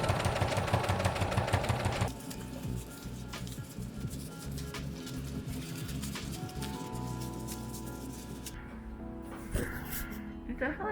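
A home sewing machine stitching fabric for a face mask, its rapid mechanical whir running steadily for several seconds after a louder opening, then stopping near the end.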